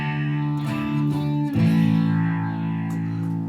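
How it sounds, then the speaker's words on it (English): Sustained electric guitar chords played through a rotary speaker effect, the tone swirling and wavering, loud and alone with a fresh strum partway through. "I can add rotary speaker"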